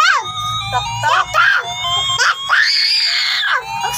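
A young girl lets out repeated loud, high-pitched screams close to the recorder, several drawn-out shrieks with short breaths between, and a lower voice murmurs underneath.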